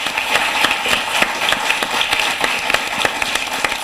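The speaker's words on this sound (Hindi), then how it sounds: "उनके लिए भी जोरदार तालियां बजाएं" Applause from the audience at a televised Hindi poetry recital, heard as a steady wash of many hands clapping, with individual claps standing out fairly close, and no one talking.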